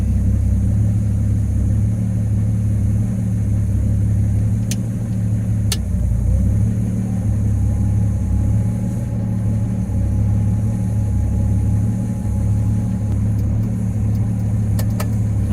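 Jaguar E-Type with a Tourist Trophy exhaust on a small B road, a loud, deep engine droning steadily with rises and falls in pitch as it accelerates, heard from inside with no talking.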